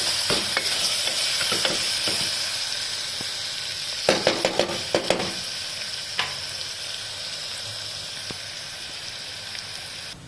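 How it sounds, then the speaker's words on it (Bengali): Onions frying in a pan with a steady sizzle, interrupted by clusters of scraping and stirring clicks from a utensil. "হালকা ভাজা ভাজা করে নেব।"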